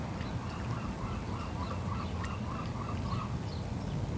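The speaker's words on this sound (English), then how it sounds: "those birds are pretty loud" Ducks quacking loudly near San Francisco airport at sunrise, mixed with other birds over a steady low rumble of background noise, calls repeating throughout.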